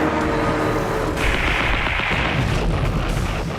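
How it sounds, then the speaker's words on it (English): Anti-aircraft guns fire at incoming kamikaze planes over Leyte in the Philippines, a dense, continuous rumble of heavy gunfire and booms with no clear gaps, loud and close throughout. "US fighters and anti-aircraft guns respond to the threat."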